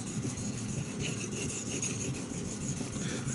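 Steady rhythmic rasping of a knife blade stroked across a 2000 grit sharpening stone, continuous and close with even scraping texture throughout.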